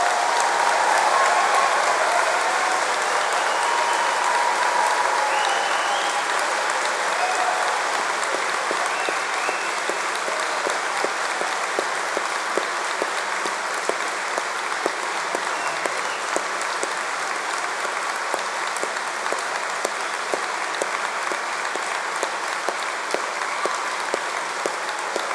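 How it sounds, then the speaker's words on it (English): A large crowd of families, friends and staff applauds graduates at a London degree ceremony. The dense, loud, continuous applause fills the hall for about twenty-five seconds without a break. "let's start by giving all of our amazing graduates a huge round of applause"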